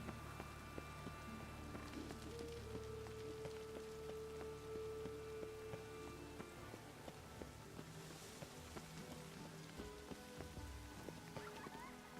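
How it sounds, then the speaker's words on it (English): Steady rain falling in The Witcher 3 video game, a soft continuous patter that stays faint and even throughout, with a brief tonal hum and scattered small ambient sounds beneath it. "Lots of fuss over lots of rain."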